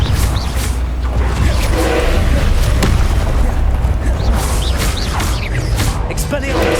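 A Confringo spell blast in Hogwarts Legacy, heavy booming bursts rumbling loud and continuous, layered with a clashing battle din and overlapping action effects.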